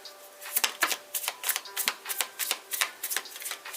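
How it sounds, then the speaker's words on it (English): Tarot cards are shuffled up close in quick riffling bursts, a crisp flurry of paper snaps with short pauses, no voices. "Alright, 3 shuffles."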